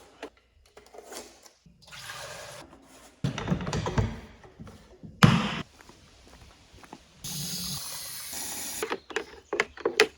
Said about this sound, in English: I'm gonna mix a bit of a bottle